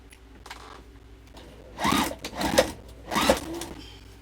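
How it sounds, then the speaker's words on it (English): A sewing machine stitches a quilt in three short close bursts, each about half a second long, separated by brief pauses, after a quiet stretch at the start. "now we're just going to sew"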